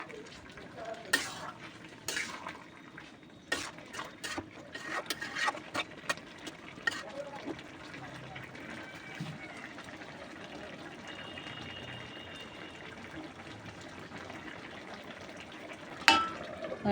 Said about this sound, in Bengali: দিয়ে আবার নাড়াচাড়া করছি